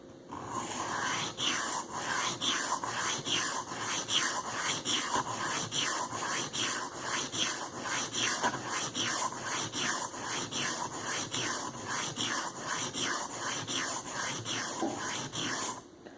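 Blade being sharpened with about twenty even strokes, a steady, regular scraping rhythm at moderate to faint level, continuous and without talk.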